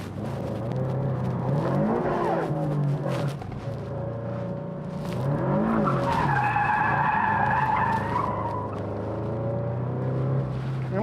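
Car tyres skid and squeal as a car drifts through a curve on a track, with long wavering screeches over a steady engine drone, loud and continuous.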